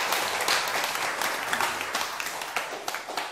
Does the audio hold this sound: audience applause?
yes